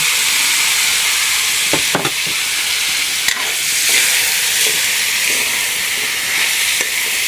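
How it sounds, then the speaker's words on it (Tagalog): Vegetables tossed into a hot pan with oyster sauce, frying in a loud, steady sizzle with occasional scrapes and knocks of the stirring utensil, close up. "So pwede na natin ihalo yung ating gulay."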